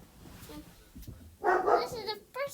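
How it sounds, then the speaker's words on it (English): A dog barks close by in a burst of loud, sharp yaps, with quieter whimpers and softer yips around it and a person talking faintly in the background. "I'm sorry for the barking dog."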